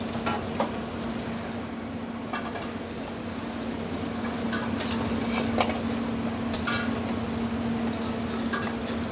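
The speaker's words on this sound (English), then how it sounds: "when you're searing the scallops, you get a nice golden brown on the scallop" Scallops sear in a hot pan, a steady close sizzle with occasional utensil clinks and scraping, no one speaking.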